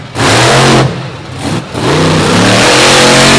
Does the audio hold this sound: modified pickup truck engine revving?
yes